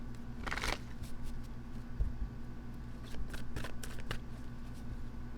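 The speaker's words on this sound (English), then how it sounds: "One more shuffle." A deck of tarot cards being shuffled by hand, giving a few soft riffling bursts and light flicks over a quiet, faintly humming room.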